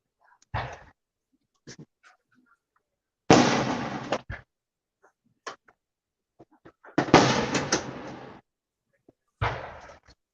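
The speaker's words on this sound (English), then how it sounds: "there's fireworks outside" Fireworks go off outdoors, sharp bursts and crackling volleys in irregular clusters separated by quiet gaps, some blasts loud and sustained, others single distant pops.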